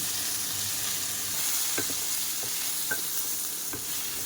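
Spices, salt and turmeric sautéing in a pan, a steady low sizzle with a few spaced knocks and scrapes from a stirring spoon, close and alone.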